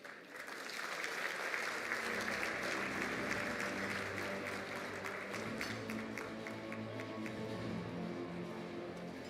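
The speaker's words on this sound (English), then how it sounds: "how about another round of applause for our CPEC co-chairs?" Applause from a large audience at the National Forum for Black Public Administrators builds quickly into a dense, sustained wash of clapping that holds steady and tapers slightly toward the end, with a voice faintly beneath it.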